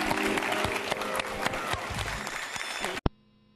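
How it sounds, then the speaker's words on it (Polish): A television talk-show studio audience from 2005 applauds loudly for about three seconds, a thick wash of clapping that cuts off abruptly into near silence. "Kasia Cichopek, wielkie brawa!"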